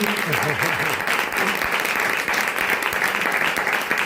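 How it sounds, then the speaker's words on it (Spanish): At a novel launch presentation for 'El albatros negro', the audience applauds in a sustained, even patter, with a brief voice audible under the clapping early on. "os pediría un aplauso para este éxito"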